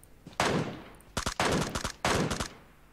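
Gunfire in PUBG Mobile on the Erangel map, with an MK14 rifle: three loud, sharp bursts of rapid shots, each a cluster of close cracks separated by brief pauses, with no talking.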